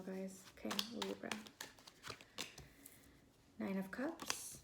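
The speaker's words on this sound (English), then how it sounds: "My juggling, my shuffling is off a bit." Tarot cards being shuffled by hand in bursts of quick papery riffling and flicking, close and fairly quiet, with a pause in the middle before another run.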